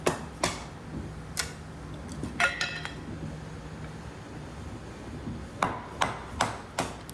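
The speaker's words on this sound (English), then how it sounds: "I was freaking hammering on that thing hard" A knife is batoned through very hard wood, sharp sparse wooden knocks ringing out at irregular intervals, then a quicker run of four or five strikes near the end, no talking.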